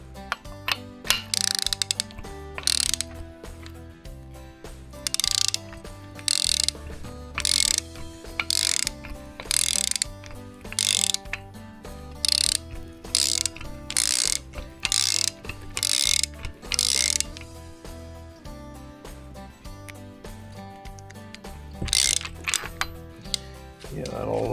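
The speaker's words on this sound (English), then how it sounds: "I'm gonna turn this crank over though real quick and just see one thing." A ratchet turns over an engine crankshaft by hand, with repeated bursts of loud clicking pawl strokes separated by short pauses and metallic engine clunks, close up, with occasional voices.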